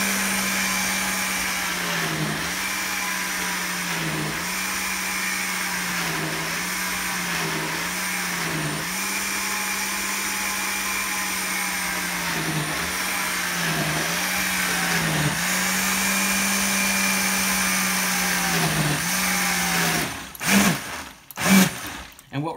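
A blender loaded with recycled paper churns it into pulp with a loud, steady motor whine that dips briefly as it is pulsed over and over, then ends in a few abrupt stops and restarts.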